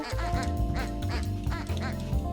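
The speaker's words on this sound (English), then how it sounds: "If I'm getting really bored, I can just hit the quack button." Repeated duck quacks ring out rhythmically in Ducky's Delivery Service, a video game, each honk-like call loud and near, layered over continuous background music.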